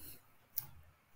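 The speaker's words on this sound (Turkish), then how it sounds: "Sağ tıkla onaylıyorum." A single soft mouse right-click while confirming a step in Solid Edge 2023 CAD software, one brief faint tick in a quiet room with no talking.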